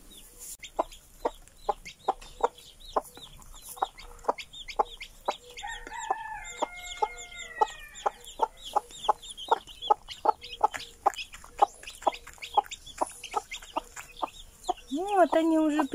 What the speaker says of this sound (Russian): Какая курочка молодец. Разговаривает с ними.